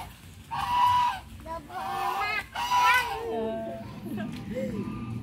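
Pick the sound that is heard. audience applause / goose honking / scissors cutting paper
goose honking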